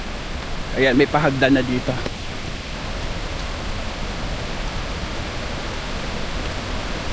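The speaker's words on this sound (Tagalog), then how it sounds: "Ayan na, naririnig ko na yung tubig." Steady broadband rush of running water from a waterfall or river on an island trail, continuous and fairly loud, with a voice briefly talking over it near the start.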